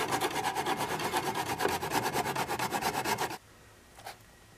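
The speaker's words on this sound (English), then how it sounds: "I use a hacksaw and this miter box to cut the channels." A hacksaw cuts metal channel trim held in a miter box, a close rhythmic rasp of quick back-and-forth strokes lasting about three seconds before stopping abruptly into near silence with one small knock.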